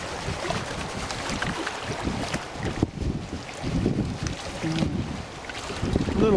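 Wind blows outdoors, buffeting the microphone with an uneven, rumbling roar that rises and falls continuously and close up.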